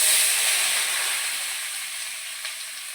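Grated carrot frying in a pan for carrot halwa, a steady broad hiss of sizzling that fades slowly over a few seconds, close and fairly loud.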